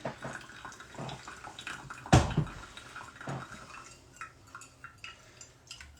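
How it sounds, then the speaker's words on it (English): Freshly boiled water pours from a kettle over a Chemex paper filter, one sharp splashing pour in the middle amid faint clinks and small handling knocks, close and fairly quiet. "So my kettle's just boiled."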